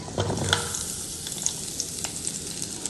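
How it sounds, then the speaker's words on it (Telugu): Chopped onions sizzle and crackle in hot oil in a home kitchen pan, a steady close fry with scattered sharp pops and a few stirring clatters. "వేసుకొని ఫ్రై చేస్తే అయిపోద్ది లైట్ గోల్డ్ కలర్ వచ్చే వరకు ఫ్రై చేసుకొని"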